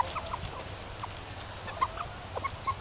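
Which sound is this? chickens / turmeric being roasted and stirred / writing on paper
chickens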